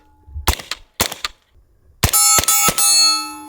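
Suppressed pistol-caliber carbine firing subsonic rounds into rocks outdoors: two sharp cracks, then three quick shots each followed by a ringing metallic clang, close and loud with silence between.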